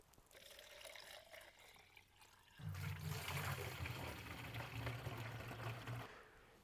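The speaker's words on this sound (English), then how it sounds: "this is the first watering I've done of them with the fertilization" Diluted urine fertilizer is poured onto sprouted oats, a close, splashing trickle of water that starts partway through and runs steadily for a few seconds before stopping.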